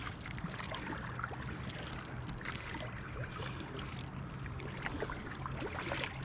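Canoe paddling on Alder Lake, with a steady wash of water sloshing and trickling against the hull throughout, plus faint splashes from the paddle strokes. No one speaks.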